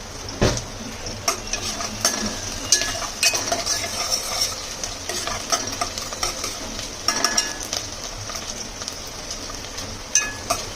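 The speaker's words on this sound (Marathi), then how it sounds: "कांदा टाकते. कांदा थोडासा परतून घेते." Finely chopped onion sautéing in a pan, a busy rapid clatter of spoon-on-pan stirring and clinks over a continuous close sizzle, with no talking.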